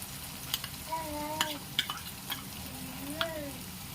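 Onion, tomato and garlic chutney frying in oil, stirred with a spoon that scrapes and clinks against the pan several times over a steady sizzle; no talking.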